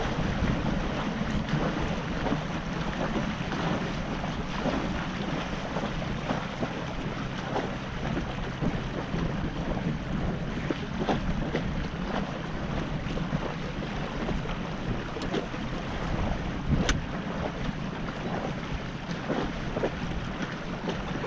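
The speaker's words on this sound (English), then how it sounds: "the wind started getting gustier and increased" Strong, gusty wind roars across the microphone on a sailboat under full main and jib, with wave and water noise mixed into the continuous rush.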